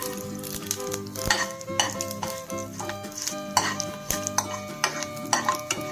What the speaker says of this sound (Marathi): मसाले आहेत ते भाजून घ्यायचे आहेत